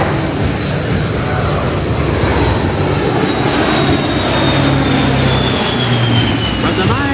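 A C-130 military transport aircraft flies past at an air show, its loud, broad propeller-engine roar steady and close throughout, with a faint voice over the public address underneath.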